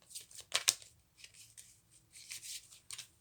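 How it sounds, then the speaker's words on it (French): A deck of small Lenormand cards shuffled vigorously by hand, with bursts of riffling and rustling separated by short pauses, close and fairly quiet. "je suis en train de remuer fortement le petit Lenormand"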